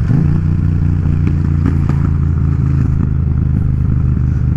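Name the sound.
Yamaha MT-07 motorcycle with Akrapovic exhaust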